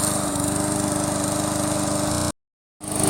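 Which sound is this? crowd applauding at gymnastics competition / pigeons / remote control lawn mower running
remote control lawn mower running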